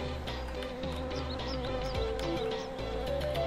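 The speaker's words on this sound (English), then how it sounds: "Okay, we got bees." Bees buzz steadily in a Doom mod game styled after Jazz Jackrabbit, a continuous droning hum that stays close and loud over the game's music-like background with no pauses.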